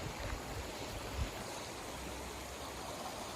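Floodwater from the Dharoi dam surges down the Sabarmati river in a steady, broad rushing wash, continuous and fairly distant, with no voices.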